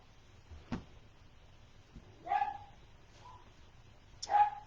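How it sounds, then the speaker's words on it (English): Dogs barking indoors at a home near Houston, a few separate barks spread over several seconds against a quiet background, with a louder bark at the end. "Sorry, there go my alarms, my dogs."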